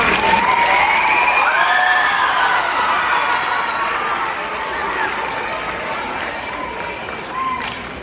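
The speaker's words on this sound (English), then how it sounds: "let's give everybody one more round of applause" A school crowd at a seventh grade celebration gives a round of applause, dense clapping mixed with cheers and children's shouts that fades slightly toward the end.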